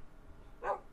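A dog in the video game Minecraft gives a single short, faint yip-like bark near the end of an otherwise quiet moment.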